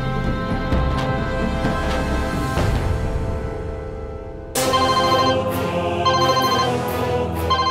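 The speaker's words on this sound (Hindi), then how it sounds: "अरे तो आकाश का ही फोन है।" A telephone ringing at home in an Indian household drama, a repeating electronic ringtone that starts mid-clip loud and close, with steady tonal bursts over a background music bed.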